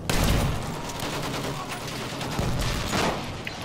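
Sustained video game gunfire fills the scene, a dense, loud barrage of rapid shots and bursts that rolls on without pause, with fighting and tank combat in the background.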